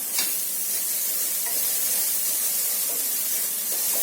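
Chowli sabzi with onion cooking in a pan with no oil, giving a steady soft hiss and gentle sizzle throughout, close and even with no talk.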